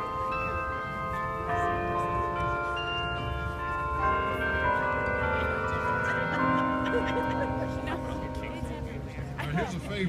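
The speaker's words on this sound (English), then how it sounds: "Traditional cast bell sound." A carillon of traditional cast bells rings out a tune at a memorial carillon dedication, with sustained, overlapping tones and resonant ringing that fill the whole stretch with no talking.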